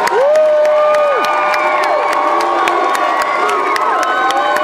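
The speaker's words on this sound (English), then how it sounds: "round of applause." A graduation crowd claps, cheers and whoops loudly and steadily, with high shouts and whistles over a dense wall of applause.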